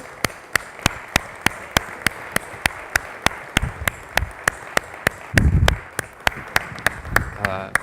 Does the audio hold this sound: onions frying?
no